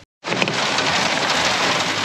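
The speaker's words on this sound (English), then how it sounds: "Well, the rain has just come in." Heavy rain pours steadily down on a fishing boat in the Gulf of Carpentaria, a dense, loud, continuous hiss of drops that starts abruptly after a brief silence and holds unbroken throughout.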